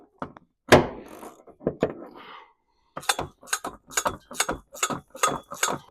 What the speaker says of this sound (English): I'm going to spray that with some WD-40. Let's see if I can loosen it off. It's a 13 millimeter.